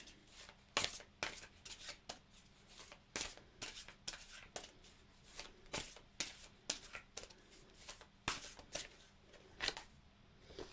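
Oracle cards shuffled by hand in quick repeated riffles and snaps, a steady rhythm of crisp close taps with no speech.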